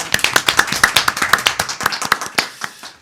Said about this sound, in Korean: 우리 박수로 이 시간 시작하겠습니다.